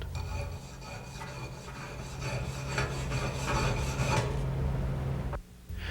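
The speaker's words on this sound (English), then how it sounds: "Use a chipping hammer and wire brush to remove the slag from the weld." A wire brush scrapes steadily back and forth across a metal weld, removing slag, in a harsh, continuous rasp, close up, then stops abruptly.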